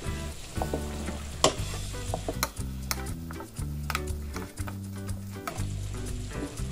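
Beef with spices and chilies fries in a pan, giving a steady sizzle broken by repeated sharp ticks and scrapes from stirring, heard close and fairly loud with no speech.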